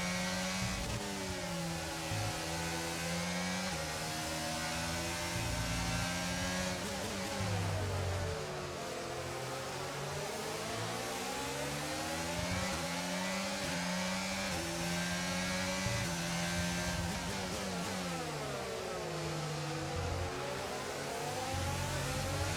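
Formula One cars racing in a video game, with a steady layered engine whine rising and falling through gear shifts, moderate level and continuous without talk.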